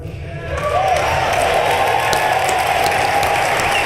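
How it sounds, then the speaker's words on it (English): A large inauguration crowd claps and applauds in a loud, dense, continuous roar of hands that swells in after a brief pause and holds steady, with faint talk mixed in. "Pardon me for clapping."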